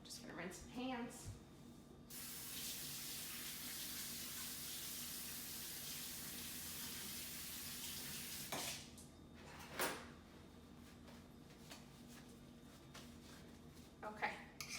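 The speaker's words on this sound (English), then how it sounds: "Just gonna rinse my hands." Running tap water pours steadily over hands at a kitchen sink for several seconds, a broad hiss that stops abruptly, followed by a few faint clinks and light handling noises.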